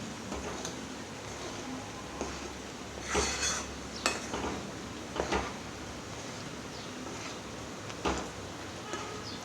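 Spoon stirring boiling dal in a metal pot in a home kitchen, scattered scrapes and clinks against the pot over a low bubbling background, moderately close.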